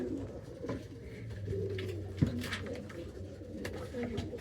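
Racing pigeons in a loft give off soft, low, repeated cooing that continues throughout, with a faint murmur of voices in the background.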